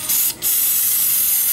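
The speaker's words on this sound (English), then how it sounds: "Use the brake part cleaner to remove the dirt." Brake part cleaner hisses loudly from a spray can onto a motorcycle drum brake shoe, two close bursts with a short break between them.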